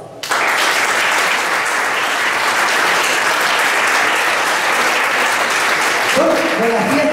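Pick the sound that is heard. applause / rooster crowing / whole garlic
applause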